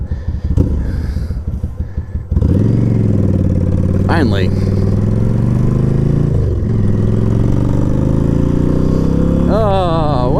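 A motorcycle with an oil leak starts and then runs with a steady, loud drone while riding, its pitch shifting slightly; a person speaks briefly.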